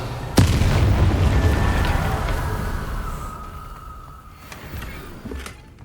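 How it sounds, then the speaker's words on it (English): Explosive barrel blast in Hogwarts Legacy: a sharp, loud boom hits early, then a long rumbling roar of debris and fire that slowly fades, with a few faint clanks near the end. "I blasted him with a barrel attack."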